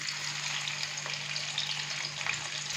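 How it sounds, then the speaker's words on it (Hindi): Two finely chopped onions fry in hot ghee with a steady, close, dense sizzle and crackle, plus a faint low hum underneath and no talking. "प्याज डालने के बाद अभी हम प्याज को अच्छे से फ्राई करेंगे, तकरीबन गोल्डन ब्राउन होने तक।"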